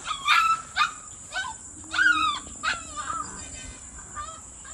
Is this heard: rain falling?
no